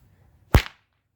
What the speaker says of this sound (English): Snake whips are easiest to do the flicks with.